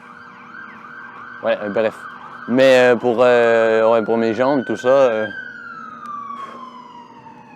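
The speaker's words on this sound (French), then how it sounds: "j'imagine que c'est une police ou une ambulance." An emergency siren, police or ambulance, wails steadily in the background, rising and passing before fading out, while someone speaks over it.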